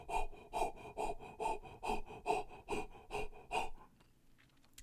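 A person imitates a large dog panting with about ten quick, breathy, rhythmic huffs close to the mic, then stops and the sound falls quiet.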